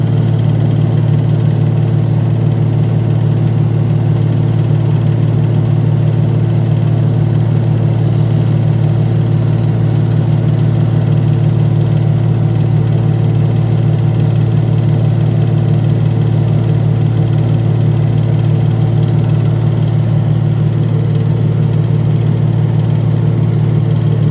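A Lincoln SA200 welder's engine runs at a steady idle with its exciter spinning, a loud, continuous mechanical drone that holds unchanged for the whole stretch with no voices.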